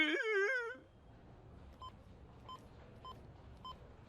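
A telephone is dialed: a short wailing vocal sound opens, then a series of evenly spaced soft electronic beeps follow one by one against a quiet background.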